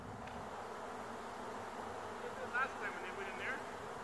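Bees swarming near a beehive, a steady diffuse buzz of many insects around a smoker, with a few brief louder whines passing close near the end.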